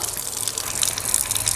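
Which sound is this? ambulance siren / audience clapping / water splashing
water splashing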